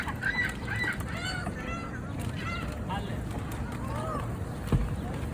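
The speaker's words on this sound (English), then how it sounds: "Them birds dangerous, they jump people." Geese honk repeatedly and loudly outdoors in short, uneven bursts, while people talk at close range over a steady background rumble.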